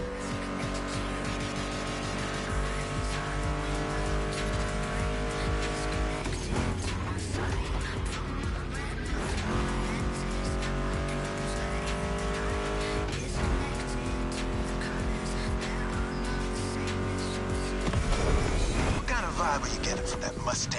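Ford Mustang GT muscle car engine in the racing video game The Crew Motorfest, loud sustained revving with repeated gear shifts and rising pitch over about twenty seconds, heard under background music.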